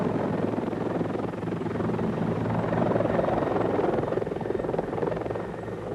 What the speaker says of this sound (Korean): 예거 대원들은 이상적인 침투용 항공기로서 헬리콥터를 사용합니다.